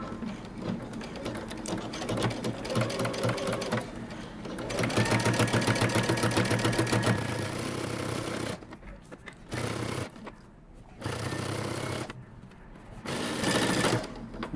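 Domestic sewing machine stitching a seam in a fabric beanie, with steady rapid runs of stitching broken by short pauses and restarts, close and clear, no talking.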